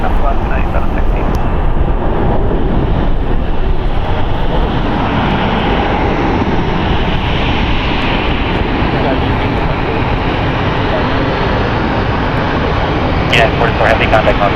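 Jet airliner taking off from runway 1 right at San Francisco International, a loud sustained roaring rumble of engines filling the whole stretch, steady and close.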